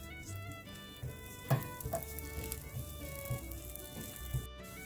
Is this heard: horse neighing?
no